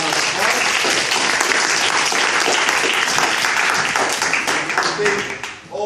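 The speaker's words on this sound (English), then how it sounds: "Please give everyone a round of applause." An audience applauds at the end of a school debate session, dense sustained clapping from many hands filling the room, loud and steady before tapering off at the end.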